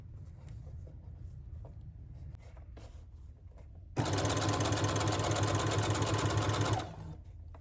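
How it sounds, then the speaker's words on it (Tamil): Sewing machine running steadily while stitching along the edge of a saree, a loud continuous mechanical whir for about three seconds after quieter handling noises, then stopping. "அவசரப்பட்டு நடுவுலலாம் போடாமல் எட்ஜ்லேயே தைக்கிற மாதிரி தைக்கணும்."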